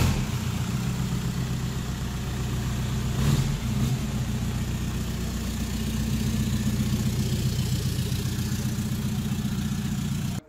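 A car engine runs steadily during a test drive, a continuous mid-low drone with a brief knock near the start, heard without any voices.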